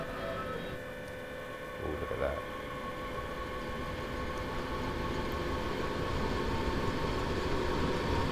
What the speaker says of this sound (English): Let's listen to this train pull away.